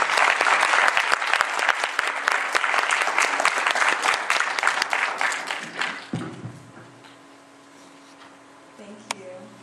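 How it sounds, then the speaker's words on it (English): An audience at a Vasant Panchami 2019 event gives the main speaker a dense, loud round of applause that thins out and dies away after about six seconds, leaving near silence. "huge round of applause for her"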